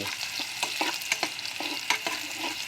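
Squid balls fry in a pan while a utensil stirs them, giving a steady close sizzle broken by quick, irregular scrapes and clicks.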